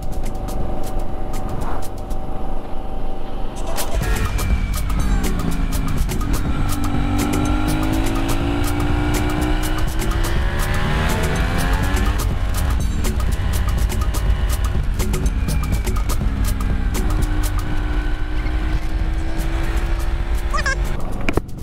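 A Yamaha Tenere and a Kawasaki KLE 500 motorcycle ride past on a touring route through a river gorge, their engines rising and falling loudly close by, with no talking.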